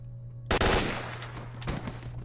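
A sudden loud burst of rapid gunfire in the video game S.T.A.L.K.E.R.: Shadow of Chernobyl, followed by a couple of fainter shots, with a steady low hum underneath.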